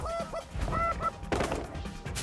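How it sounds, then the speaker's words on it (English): Several geese flying overhead honk in quick, overlapping calls, loud and fairly close, with a brief burst of rustling noise partway through. "you hear geese in the air"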